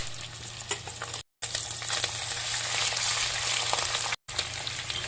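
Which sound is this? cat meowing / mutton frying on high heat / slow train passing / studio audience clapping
mutton frying on high heat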